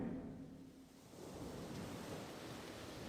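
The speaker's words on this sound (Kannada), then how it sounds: "ಇವಾಗ ನೀನು ಸಮುದ್ರದ ದಡದಲ್ಲಿ ನಡ್ಕೊಂಡು ಹೋಗ್ತಾ ಇದೆಯಾ." Sea waves wash onto a shore in a soft, faint, continuous surf rush, broad and even like distant breakers, with no voices.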